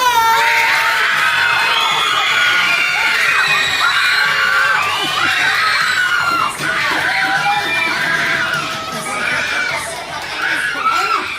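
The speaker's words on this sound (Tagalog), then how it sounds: "So ngayon po, Ken, pakinggan mo yung palakpakan at sigawan ng Team B natin." Children at a seventh birthday party with a Jollibee host shout, scream and cheer together in a loud, continuous crowd roar, with excited voices rising and falling throughout.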